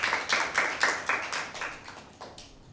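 Audience clapping for team A at a school Bible quiz: a run of short, quite faint bursts of claps that arrive in a loose rhythm and fade out, with no talking over them.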